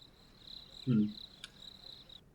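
A steady, high cricket chirp trills in the background, with a brief low thump partway through.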